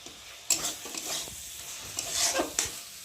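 Maggi noodles with a splash of vinegar are stirred in a hot pan, with soft sizzling under repeated scraping strokes and a few sharp clanks of the utensil against the metal.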